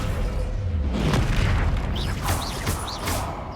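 A Confringo fire spell from the Hogwarts Legacy video game, heard as a loud, sustained booming blast with rumbling low end and crackling bursts lasting several seconds.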